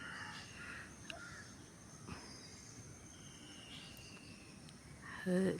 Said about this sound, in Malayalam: ഈ ഒരു കിളിയാണ് കേട്ടോ